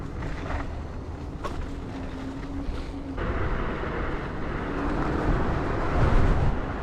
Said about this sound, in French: Il y a beaucoup de vent aujourd'hui, hein.